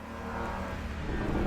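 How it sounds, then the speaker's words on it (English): A race car in the racing sim Assetto Corsa EVO whirs past, its engine note swelling steadily and drawing closer over a short, continuous pass with no talking. "Actually, the sound of the car as it goes past, that whirry sound as it goes past you"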